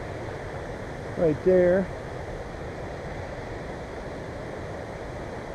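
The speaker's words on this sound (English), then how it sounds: "Coming up on a big creek / waterfall" A big creek waterfall rushing on a mountain trail, a continuous broad roar heard from a distance, briefly interrupted by a short spoken phrase.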